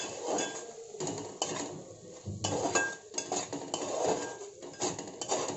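Tomato masala frying in oil in a pan for spiced cauliflower curry, with a spoon scraping and clinking against the metal in repeated bursts of stirring over a steady background.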